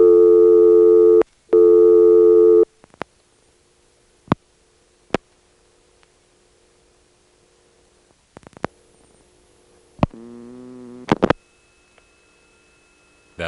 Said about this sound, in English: It's the motor switch running past many terminals and finally arriving on the one that has our outgoing trunk.